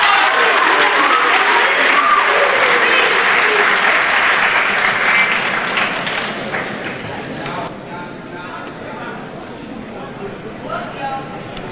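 An audience at a school quiz competition quarter-final breaks into loud, sustained clapping that gradually fades after several seconds, leaving scattered sounds and a speaking voice.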